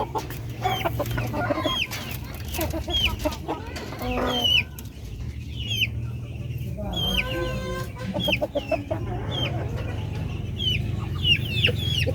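Native chickens in a backyard farm, a rooster among them, cluck in repeated short calls near and far, with scattered squawks over a constant low background rumble.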